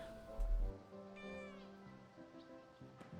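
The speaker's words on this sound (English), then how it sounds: "There's a lot of cats here." Cats meow in the video game Wytchwood, a few overlapping mewing calls in a quiet game setting, one rising, wavering cry in the middle, soft and alone with a low background hum.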